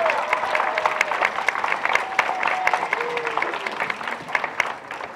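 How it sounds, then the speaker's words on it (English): Wedding guests applaud together in a steady, dense wash of clapping with some crowd noise, held at an even level for several seconds and tapering slightly at the end. "let's give them a round of applause"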